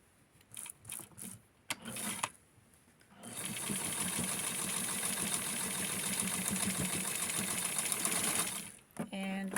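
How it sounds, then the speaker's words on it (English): Sewing machine stitching a vintage Barbie bathing suit, a few short stop-start bursts at first, then a steady, close, continuous run of rapid stitching that halts near the end. "I'm going to sew it just a little bit more"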